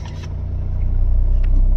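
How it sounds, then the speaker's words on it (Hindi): A Mahindra Scorpio's engine idles after starting, giving a steady, close low rumble that holds even throughout with no voices. "मैं आपको कार स्टार्ट करके दिखाता हूँ"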